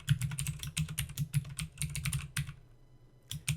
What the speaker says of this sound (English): we type in what we want the new name for the field to be